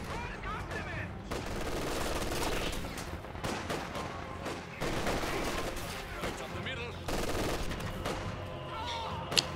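Sustained gunfire in Company of Heroes 2, with repeated bursts that fit machine gun fire layered over dense battle noise and explosions, loud and continuous throughout, with commentary voices underneath.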